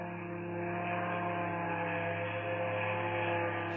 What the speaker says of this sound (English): in this clip, we can hear the drone flying over.